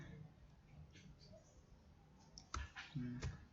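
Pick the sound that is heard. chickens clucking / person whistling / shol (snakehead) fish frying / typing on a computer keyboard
typing on a computer keyboard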